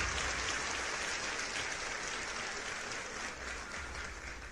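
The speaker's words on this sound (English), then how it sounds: "please join me in giving a warm round of applause to Mary Ijeoma" Warm, steady applause from a seated audience welcoming a guest speaker, a dense patter of clapping heard from some distance, fairly soft and unbroken.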